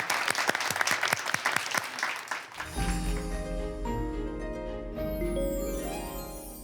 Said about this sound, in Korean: 여러분 다시 한번 고효경 씨께 큰 박수 부탁드립니다